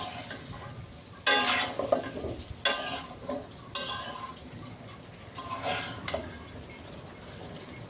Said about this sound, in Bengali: তো আমি দিচ্ছি আর আমার মেয়ে নাড়াচাড়া করতেছে।